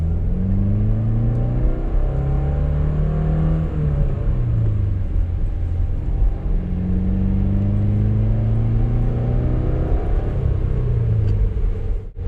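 A manual-transmission car engine revs up and down repeatedly through rev-matched downshifts, the pitch sweeping in rising and falling arcs over a steady loud rumble, close and continuous with no talking.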